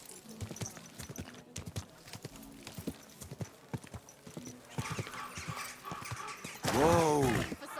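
A horse's hooves clip-clop at a steady walking pace in the medieval game Kingdom Come: Deliverance II, ending in a loud neigh, with speech heard between steps.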